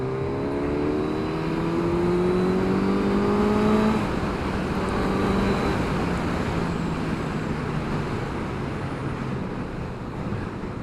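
A Suzuki GSX-S1000 motorcycle engine in fourth gear, running in A mode, pulls steadily from low revs with a rising engine tone. Heavy wind and road rush dominate throughout, loud and continuous, with no talking.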